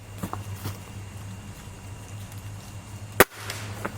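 A single sharp crack from a Gamo Magnum .22 pellet air rifle, loud and close against a low steady hum, with faint handling clicks before and after.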